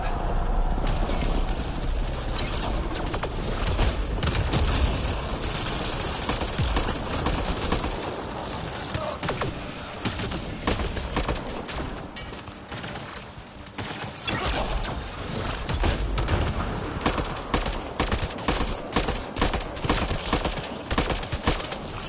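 Sustained gunfire crackles through a Mass Effect: Andromeda ambush against Kett, a dense, steady fusillade of rapid shots with mechanical clatter, loud and continuous with a brief lull midway.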